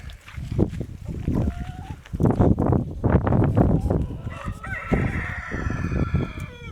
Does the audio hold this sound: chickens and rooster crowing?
yes